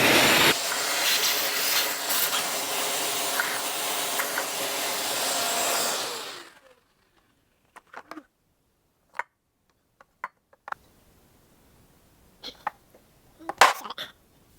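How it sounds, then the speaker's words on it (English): A loud, steady vacuum cleaner roars for about six seconds sucking out the oil filter housing of a Cub Cadet Ultima zero-turn mower, then cuts off, leaving scattered clicks and small knocks in a quiet room. "let me vacuum this out inside here before I put the filter back on."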